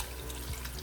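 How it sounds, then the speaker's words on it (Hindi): Water from a glass pours into a stew pot while a Turkish stew cooks, a short steady splash and trickle that fills the whole brief moment. "इसमें मैं 1 गिलास पानी डाल दूँगी।"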